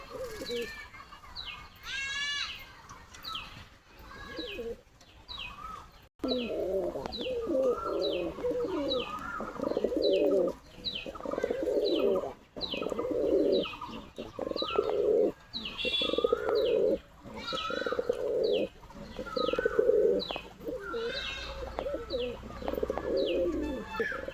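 Several pigeons coo repeatedly nearby, with chirping birds and faint bleats mixed in, in a busy outdoor setting.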